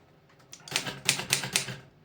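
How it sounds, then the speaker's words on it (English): Typewriter keys being struck outdoors, a rapid cluster of sharp mechanical clacks in bursts over about a second and a half, close and fairly loud with no talking. "I got my typewriter out here."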